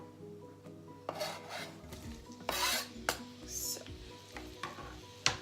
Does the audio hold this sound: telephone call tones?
no